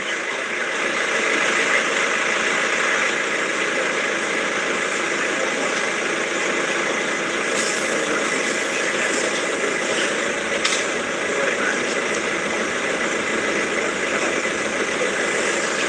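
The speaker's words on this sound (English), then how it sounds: "that engine you can hear is a police car." A police car engine idles steadily in the background, a constant broadband hum and rattle with no talking, moderately loud throughout.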